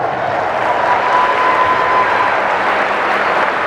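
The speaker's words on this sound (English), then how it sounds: "Give yourselves a round of applause." An audience at an opening keynote session bursts into sustained, loud applause, a broad continuous roar of clapping with a faint crowd murmur and a thin steady tone underneath.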